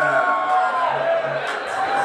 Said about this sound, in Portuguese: Aplausos para a Lívia